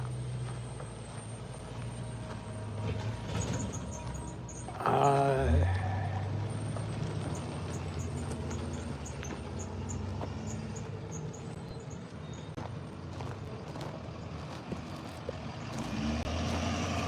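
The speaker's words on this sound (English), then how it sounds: "I'm telling this truck he can come on and pass me as he was stopping to let me pass" A large truck rumbles past on a road close by, a low heavy drone that swells with a hiss of air brakes midway and then settles into steady engine noise.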